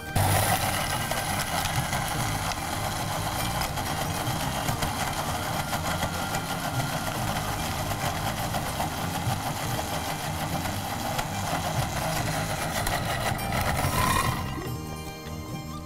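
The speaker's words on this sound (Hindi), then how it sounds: "सबसे पहले मैं इसमें थोड़ा सा दूध डालूंगी, इसको ब्लेंड करूंगी" A kitchen blender blends milk for an oats and nuts shake with a steady, loud motor whir that runs continuously for many seconds, then winds down and stops at the end.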